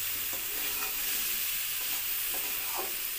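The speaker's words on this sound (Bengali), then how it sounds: "এইভাবেই ঠিক খুব ভালো করে পুরো মশলাটাকে সবজির সাথে কষিয়ে নিতে হবে" Ground spices being stir-fried with vegetables and softened tomato in a pan, a soft steady sizzle with occasional light scrapes of a spoon, faint and close, with no talking.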